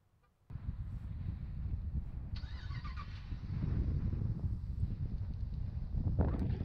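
A 2019 RAM 1500 Limited Crew Cab 4X4 starts by key fob remote: after near silence, its engine suddenly catches into a loud, steady low rumble that settles into a continuous idle, with no talking.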